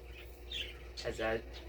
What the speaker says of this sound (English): You may hear the bird chirping